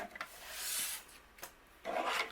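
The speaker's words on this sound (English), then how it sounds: "we're going to trim some off of the bottom" A paper trimmer blade slicing through card panel paper, heard as two or three close, dry rasping strokes with short pauses between, fairly quiet and with no talking.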